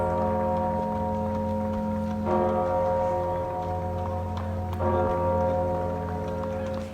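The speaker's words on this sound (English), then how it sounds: "a welcome sound as the giant bell sounded over Paris in tribute to France's frontline health workers" The giant bell of Notre Dame Cathedral in Paris tolls in long sustained strokes, two fresh strikes ringing out over a lingering resonant hum that fills the air.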